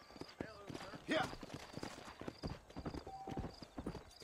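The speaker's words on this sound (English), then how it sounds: "For your horse to move faster, tap A. If you hold A, your horse will maintain its current speed." Steady hoofbeats of a ridden horse in the video game Red Dead Redemption keep a continuous galloping rhythm, close and clear, while someone talks over the riding.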